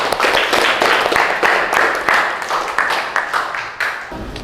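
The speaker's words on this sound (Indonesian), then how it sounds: "Tepuk tangan." A school class clapping hands together in unison, a quick burst of several seconds of rapid clapping in an indoor classroom.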